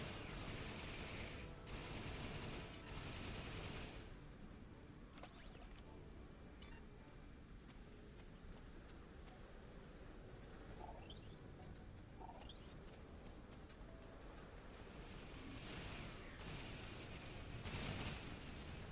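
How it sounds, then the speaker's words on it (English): Pistol secondary fire in Star Trek Online, heard as a dense, continuous crackle of rapid energy shots, fairly faint, with louder bursts at the start and near the end. "Let's switch back to the pistol now because the secondary fire on the pistol was intriguing."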